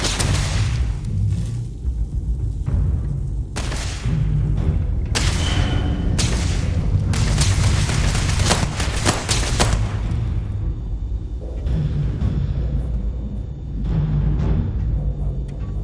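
Gunfire in the video game Starfield: dense, loud bursts of shots and heavy booms overlap almost continuously, with a few short gaps between volleys.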